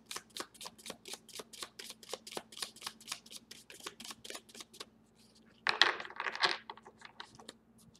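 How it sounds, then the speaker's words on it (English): A deck of tarot cards is shuffled close by in a rapid run of crisp riffling clicks, followed by a denser burst of card flutter near the end. "I want to shuffle one more time."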